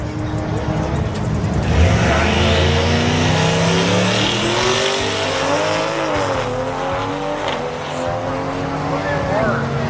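900 hp Nissan GT-R race cars run down a drag strip, engines loud and close with rising and falling revving and brief tire squeal throughout, mixed with talk.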